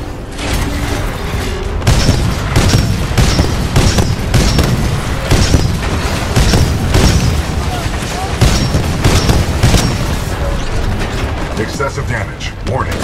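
Titanfall 2 video game combat: loud, rapid rhythmic booms and gunfire pound steadily for the whole stretch, close and dense, with game voice lines faintly mixed in.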